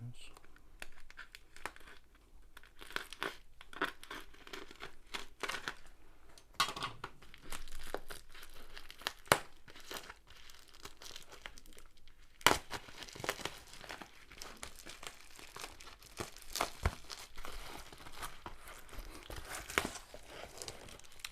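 Diamond painting packaging is cut open and unwrapped close by, with repeated crinkling and tearing of plastic and paper in irregular bursts while a person talks quietly at intervals.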